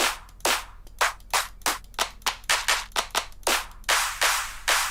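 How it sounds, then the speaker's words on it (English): Layered snare clap samples played back in a deathstep music production session, a sharp, punchy series of about fifteen loud claps in a steady rhythm, each with a short reverberant tail, no talking. "let me go into these snare claps"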